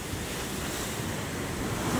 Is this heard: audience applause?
no